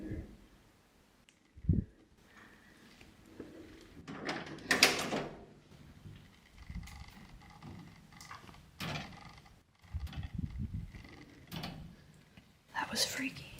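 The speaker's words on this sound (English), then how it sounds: "it mysteriously moved and rattled right in front of her" A door in an abandoned building moves and rattles, with a sharp knock and bursts of creaking and clattering scattered across the span, alongside whispered talk and quiet room noise.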